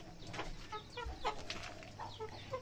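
A chicken clucking among fed birds outdoors, several short clucks and rooster-like calls scattered over a steady faint background, at moderate distance.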